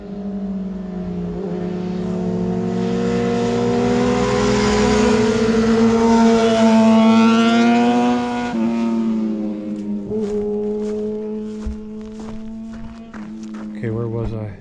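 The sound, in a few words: bikes riding past on Glendora Canyon Road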